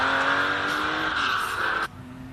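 Porsche 914 race car on a timed sprint run, its engine holding a steady high-revving drone close by before cutting off abruptly near the end, with no talk.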